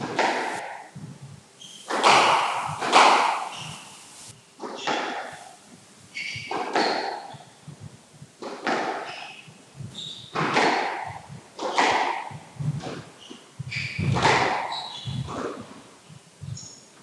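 Squash balls thud hard against walls in a rally at the Irish Open squash championship, a quick irregular series of sharp, close impacts with squeaks and court noise between them.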